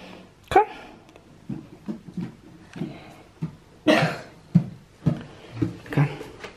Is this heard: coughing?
yes